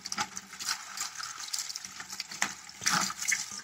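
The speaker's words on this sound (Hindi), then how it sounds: "अब इनको अच्छे तरीके के साथ में धो लूंगी।" Cut carrot pieces washed under a running kitchen tap, a steady splashing rush of water with small clatters as the pieces are rinsed, close and moderately loud with no talking.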